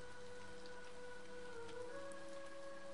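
Steady rain falls in the video game Elements Destiny Origins, a continuous close hiss of drops that never lets up, with sustained ambient tones humming underneath.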